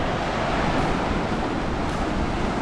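Steady roar of high-tide surf rushing in on a Kerala shore, a continuous broad wash of water with no pauses, fairly loud and unbroken.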